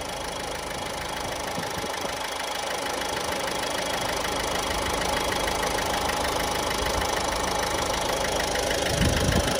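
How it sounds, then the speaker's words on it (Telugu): A Ford car engine ticks over at idle with a steady, dense mechanical hum and faint knocking, constant and close throughout, with a brief low thump near the end and no talking. "ఇంజిన్ నాయిస్ రెడ్యూస్ అవుతూ ఉంది."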